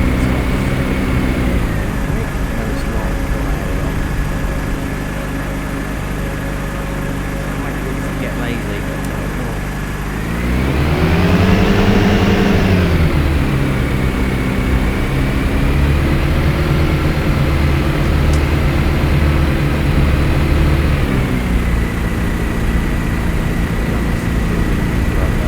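An aircraft engine idles and taxis with flaps up in a flight simulator game, making a steady droning hum that rises briefly in pitch and loudness midway before settling, under continuous talk.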